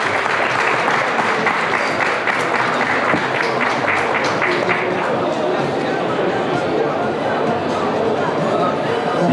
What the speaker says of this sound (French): Et vous pouvez applaudir Mathieu s'il vous plaît pour son Makato.